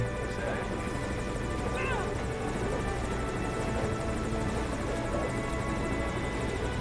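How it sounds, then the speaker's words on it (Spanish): Helicopter arriving in the Metal Gear Solid V: Ground Zeroes video game, a steady loud rotor drone throughout with a faint rhythmic pulse, mixed with game sounds and talk. "ahorita que pedí el helicóptero"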